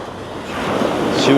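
Sea waves roll onto the beach at Pattaya, a loud, breezy wash of surf with wind buffeting the microphone, building toward a breaking swell at the end.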